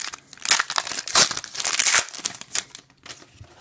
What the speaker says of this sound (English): bust all these packs open